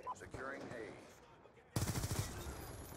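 A target-finder LMG opens fire in Black Ops 2, a sudden loud sustained burst of rapid automatic gunfire that breaks in after quieter game ambience and keeps rattling to the end.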